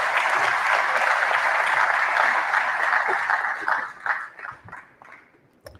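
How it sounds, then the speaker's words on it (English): Loud, sustained applause from a crowd at the announcement of South African election results gradually thins into scattered claps and fades out. "Give him another round of applause, if you will."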